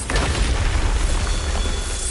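Bombarda blasting spell detonating in Hogwarts Legacy on PS5, a loud, dense booming explosion with heavy rumble that sustains through the whole moment, no voices over it.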